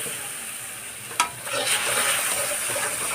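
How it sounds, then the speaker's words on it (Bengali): Milk is added bit by bit to a gulab jamun mixture in a pan while it is stirred, giving a soft steady sizzle and scraping hiss with one sharp clink of the spoon against the pan. "এবার অল্প অল্প করে দুধ দিয়ে দেবো, দিয়ে ভালোভাবে নাড়তে হবে।"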